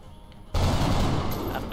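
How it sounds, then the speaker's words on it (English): Gunfire in the video game XCOM Long War: after quiet game ambience, a loud burst of shots erupts and rolls on as a dense, sustained volley with no talk over it. "And we can shoot."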